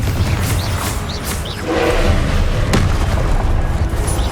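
In the Hogwarts Legacy video game, a Confringo blasting spell sets off a heavy, booming explosion that swells into a sustained rumbling roar over busy game ambience with faint chirps.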